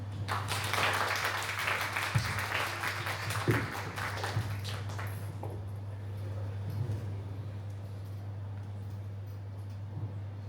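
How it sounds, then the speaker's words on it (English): Audience applause at a public talk on Palestine, dense and steady for about five seconds before fading away, leaving a low electrical hum and a few stray sounds. "let us give them a round of applause"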